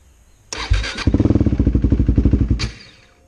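A salvaged KTM RC390 motorcycle fires up, its engine catching with a cranking burst then settling into a rapid, loud, close idle pulse before cutting off abruptly.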